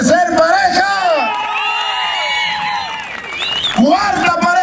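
A crowd cheers, whoops and claps for a couple at a slapping contest in Cacalotepec Mixe, Oaxaca, with shrill whistles and excited voices mixed in, loud throughout and swelling again at the end.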